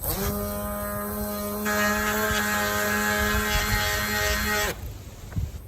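A Milwaukee M12 orbital detail sander runs on wooden lattice, a steady tonal motor whine with a buzzing hum, close and fairly loud, shifting pitch slightly as it loads, then cutting off near the end.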